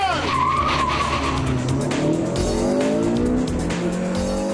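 A Honda Civic Type R engine revs up and climbs steadily through its range on a race track, loud and close, with tire noise riding along underneath.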